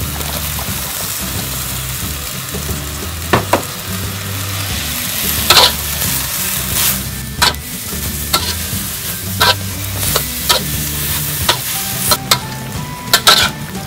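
Cabbage sprouts and bell pepper stir-fry in a hot pan, a steady sizzle broken by repeated sharp scrapes and clinks of a utensil against the pan, close and alone.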